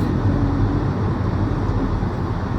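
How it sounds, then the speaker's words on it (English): Dense road traffic in Long Beach/Lakewood, California: a continuous broadband rumble of idling and creeping cars in a jam, steady and fairly loud with no distinct events or speech. "We're gonna get stuck in this traffic."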